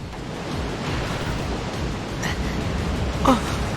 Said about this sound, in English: The waves are getting steep.